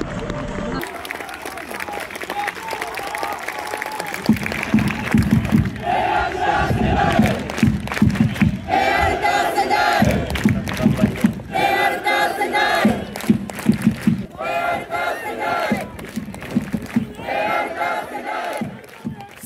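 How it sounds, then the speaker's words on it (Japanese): Stadium crowd at a J2 League football match between Blaublitz Akita and Vegalta Sendai, ending in a 0–0 draw, loud and sustained with rising chants, cheers and clapping from many fans echoing across the stands. "ともに激闘を演じました両チームに大きな拍手を送りください。"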